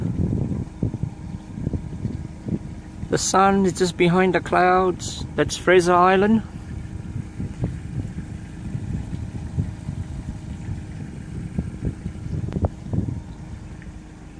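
A boat engine runs steadily on calm, glassy water off Fraser Island, a low continuous drone with some wind buffeting, while someone speaks over it for a few seconds.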